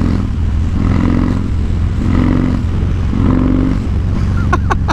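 A custom 2016 Harley-Davidson Street Bob motorcycle runs on a test ride, its engine giving a steady loud throbbing rumble with rhythmic surges, and a brief sharp squeal near the end.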